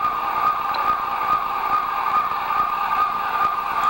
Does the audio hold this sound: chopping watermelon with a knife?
no